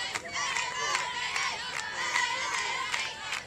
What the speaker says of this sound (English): Alabama's got some cheering going on